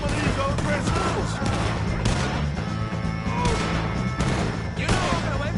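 A rapid burst of gunfire in the Red Dead Redemption 2 video game, dense shots and impacts layered over shouting voices and a loud, busy game mix.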